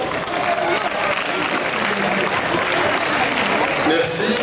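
Dense, continuous applause from an indoor crowd at a sports merit award ceremony, loud and sustained throughout with no pauses.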